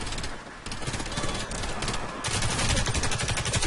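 Gunfire in the online shooter Warface, including sniper rifle shots, comes as loud, dense bursts of shots and blasts throughout, with no clear talk.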